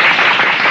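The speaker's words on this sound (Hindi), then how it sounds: "बिट्टू के लिए बजाओ ताली" A crowd clapping for Bittu after he wins a swing race, a dense burst of applause filling the short moment close by, with no talking over it.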